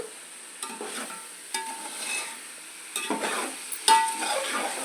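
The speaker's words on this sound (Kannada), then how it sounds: "ಯಾವುದೇ ಪದಾರ್ಥ ಹಾಕಿದ್ರೂ ಸಹ ನಾವು ಚೆನ್ನಾಗಿ ಒಂದೆರಡು ನಿಮಿಷನಾದರೂ ಸಾರಿ ಫ್ರೈ ಮಾಡ್ಕೋಬೇಕು" Ingredients for mutton pulao fry in a pan, a soft steady sizzle broken by occasional scrapes of a spoon stirring, close and fairly quiet with no speech.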